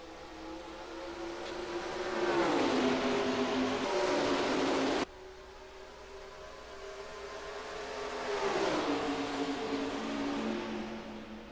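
Race truck engines in NASCAR Racing 2003 during the Pennzoil Truck Series Pepsi 250, revving up and down as the pack passes, with rising and falling pitch swells and a sudden cutoff midway before building again.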